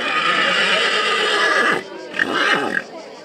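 A draft horse neighs and whinnies amid a busy, noisy background at a draft horse gathering, with a couple of shorter whinnies following after a brief pause.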